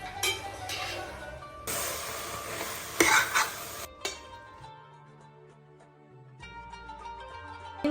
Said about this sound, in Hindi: मैं इसमें ऐड कर दूँगी और इसे अच्छे से थोड़ी देर भून लेंगे